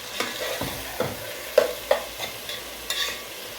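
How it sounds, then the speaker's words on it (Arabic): Onions frying and being stirred in a pot while cooking Saidi-style meat soup and zucchini with rice: a soft steady sizzle, broken by several distinct scraping stirs and knocks of a utensil against the pot, with no talk. "انا حطيت البصل، هنحمر بصل"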